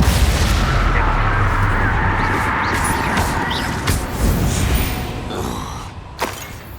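Bombarda and Confringo spells go off in the Hogwarts Legacy game, a loud rumbling blast with creaking, crackling debris that slowly fades, then a sharper second impact near the end, with no voices.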